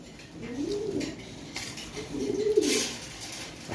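High flyer pigeons coo in soft, low, rolling phrases, two clear calls close by over quiet background with no talk.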